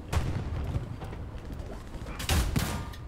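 Tank gunfire in the Hell Let Loose game: a few heavy booming shots, one early and another louder one later, over rumbling battlefield noise, with no talking.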